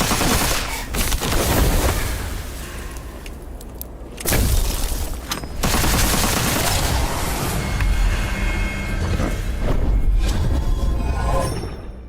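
Repeated gunfire in the first-person shooter Witchfire, loud bursts of shots with sharp transients and crackling impacts, continuing across the scene with brief lulls, mixed with game effects.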